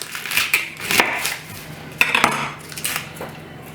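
A knife slices the top off a garlic bulb on a hard cutting surface for roasting, making several sharp clicks and scraping taps at close range, spaced irregularly with no talking.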